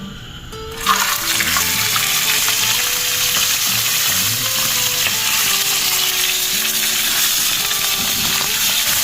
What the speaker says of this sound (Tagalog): Ipritoin lang natin itong ating malaking pampano